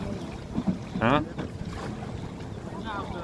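A boat out on open water, with wind buffeting the microphone and a brief louder swell of engine or hull noise near the middle, while people talk faintly in the background.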